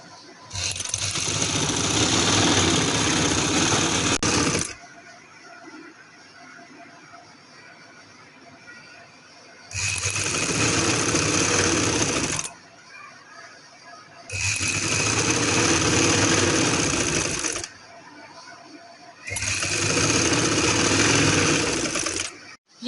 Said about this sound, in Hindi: इसके बाद हम इसे किनारे पे सिलाई लगा देंगे